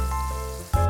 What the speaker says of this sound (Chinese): 锅内倒入橄榄油，烧热后加入樱桃番茄，煎到表皮开裂后加入蒜片